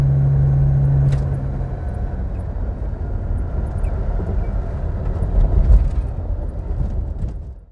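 A Wolseley 2200 Princess wedge saloon cruising on the road, its steady engine and tyre rumble holding close and constant throughout with no speech over it.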